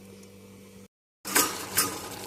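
A ladle stirring aloo brinjal curry in a pot, with a short break and then scraping metal-on-metal clinks over a gentle background sizzle, close and moderately loud, no voices.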